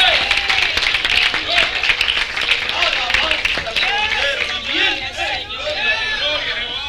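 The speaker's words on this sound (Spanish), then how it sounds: "¿Cuánto le pueden dar un aplauso de gloria al Señor?" A church congregation applauds during a Spanish-language service, steady clapping mixed with cheering voices and crowd chatter throughout.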